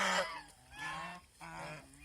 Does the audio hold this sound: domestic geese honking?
yes